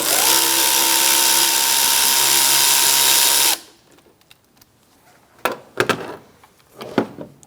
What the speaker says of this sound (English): Using a 7mm, we're going to loosen up this clamp.